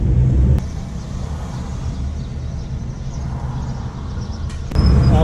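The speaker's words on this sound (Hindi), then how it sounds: "ट्रैफिक बड़ी शदीद है, अभी शाम का टाइम है, ट्रैफिक भी ज़्यादा है।" Heavy evening road traffic in Karachi, a loud continuous rumble of passing cars and engines with louder surges at the start and end as vehicles pass close by.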